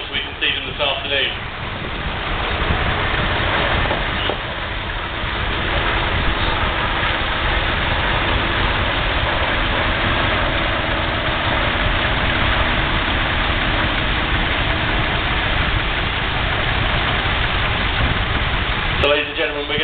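Steady low engine rumble of several idling vintage tractors at a tractor show in Biddenden, Kent, continuous and fairly loud, with a brief thump near the end.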